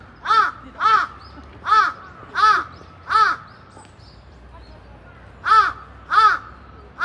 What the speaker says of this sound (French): les corbeaux japonais, ils rigolent pas du tout